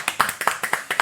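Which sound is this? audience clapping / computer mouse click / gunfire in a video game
audience clapping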